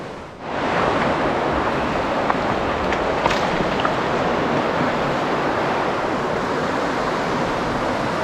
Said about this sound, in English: this river right alongside me